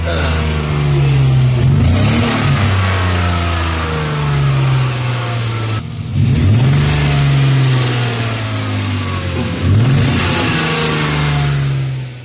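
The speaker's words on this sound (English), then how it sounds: "I want to change the injectors because I think it's misfiring that noise." A misfiring BMW E34 520i M50 engine runs loudly up close, revving in uneven surges with a rough, stumbling idle between, and brief voices break in twice.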